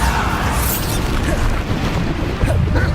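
Bombarda blasting spells explode in the Hogwarts Legacy game, making a dense, continuous wash of loud booming and crashing with rumbling low end and no clear gaps between blasts.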